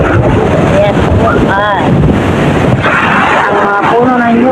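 Strong wind roars and buffets across the microphone in a steady, loud rush while a person talks over it, outdoors by the shore among coconut trees with boats pulled in nearby.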